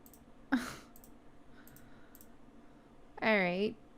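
Sparse computer mouse clicks while painting sparkles in Photoshop: one sharp click near the start and a few faint taps after, with a short burst of voice near the end.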